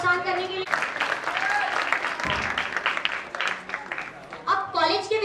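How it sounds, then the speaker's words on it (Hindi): An audience at a school prize and certificate ceremony claps for the students, dense applause that swells in the middle, with a voice speaking over the start and end. "जोरदार तालियों बजाएं हमारे बच्चों का प्रोत्साहन करने के लिए"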